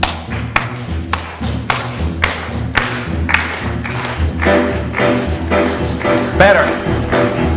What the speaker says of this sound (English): So let's try clapping.